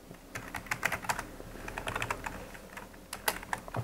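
Fast clicking keystrokes on a computer keyboard come in quick irregular bursts with short pauses, close and moderately quiet, with no voices.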